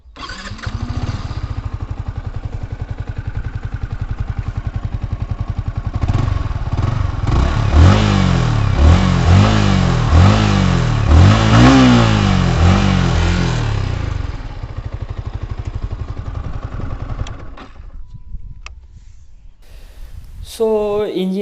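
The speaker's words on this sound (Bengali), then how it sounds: "আমি তোমাদেরকে ইগনিশনটা অন করে একটু ইঞ্জিনের সাউন্ডটা একটু তোমাদেরকে শোনাই" A metallic red Yamaha R15 V4 motorcycle engine idles steadily, then revs up and down in a run of rising throttle bursts, settles back, and cuts out near the end. It is close and loud.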